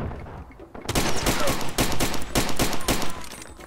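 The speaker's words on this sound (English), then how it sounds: "This pistol is so bad." Rapid pistol fire in the video game Far Cry 2, a dense run of loud, close shots cracking almost continuously for several seconds after a brief quiet start.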